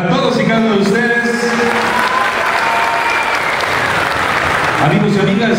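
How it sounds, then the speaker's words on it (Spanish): Audience applause at a swearing-in ceremony for a taxi drivers' and merchants' union section in Tecámac, a loud sustained wash of clapping from a large crowd across the whole stretch. "Fuerte el aplauso para todos y cada uno de ustedes."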